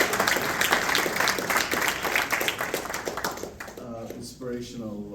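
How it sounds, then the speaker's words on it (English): Audience applause for the First Minister at a Q and A event, a broad patter of clapping that fades after about four seconds into someone speaking alone. "can we do another round of applause"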